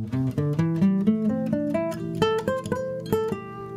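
A pentatonic scale played note by note on a pitched instrument, a steady run of clear, evenly spaced tones climbing and falling, moderately loud with no voices.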